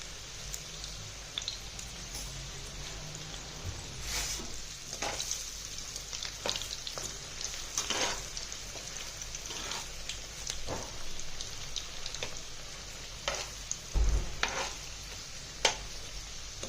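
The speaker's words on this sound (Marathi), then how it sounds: "हे चांगले आता ब्राऊन कलरचे होईपर्यंत तळून घ्यायचे छानपैकी।" Sabudana rolls deep frying in hot oil give a steady, crackling sizzle throughout, with occasional louder pops and spatters and a few faint clinks from stirring, close and moderately quiet with no talking.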